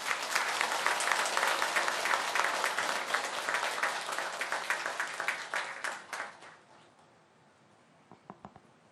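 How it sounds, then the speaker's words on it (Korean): An audience at the opening ceremony of the Seonhakwon centennial memorial hall applauds to welcome a former National Assembly speaker. Dense, steady clapping fills the first six seconds, then thins out and fades, leaving a few scattered claps near the end. "큰 박수로 맞이해 주시기 바랍니다."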